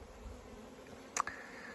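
A faint, steady honey bee buzz hums quietly throughout, with a brief sharper burst near the end, from a queenless colony with a laying worker.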